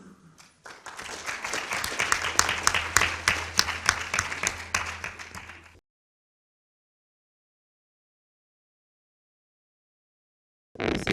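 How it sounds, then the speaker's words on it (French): An audience at an ecological-transition conference breaks into applause that swells, holds for several seconds, then stops abruptly, followed by silence and a brief return of sound at the very end. "Donc je vous propose de les applaudir, tout simplement."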